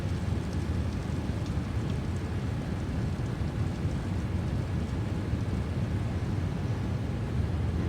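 Rain in a Boeing 787 flight simulator, a steady, dense low-pitched roar of rainfall and rumble without breaks, constant and fairly loud throughout.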